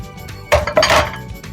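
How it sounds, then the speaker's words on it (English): Broccoli dropped into a soup pot, a short, close clatter with a metallic clink against the pot, loud and brief, with no one talking. "Now I can add in the broccoli"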